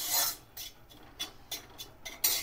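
Semolina roasts with ghee in a pan as a spoon rasps and scrapes against the metal in short, irregular strokes, soft and close with no talking.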